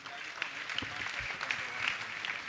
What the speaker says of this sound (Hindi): इन तीनों के लिए जोरदार ताली बजा दीजिए